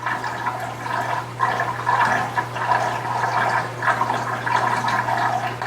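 An AMK Sicce Ultra 9000 utility pump pushes water into a sink, producing a close, continuous gushing and splashing flow with a surging rhythm over a steady low motor hum.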